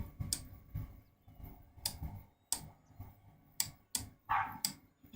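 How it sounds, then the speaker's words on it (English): A dog barks outside a window, faint and distant, in a series of sharp, evenly spaced yaps under low room noise and keyboard clicks. "there's a dog barking outside my window"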